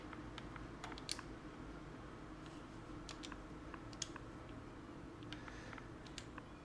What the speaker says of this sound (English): So let me just type a random name.